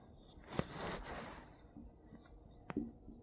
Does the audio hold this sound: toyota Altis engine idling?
no